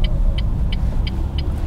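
Renault Clio with a 1.2 engine heard while driving, a steady low road and engine rumble holding at an even level throughout, with faint regular high ticks, likely the indicator, recurring in the background.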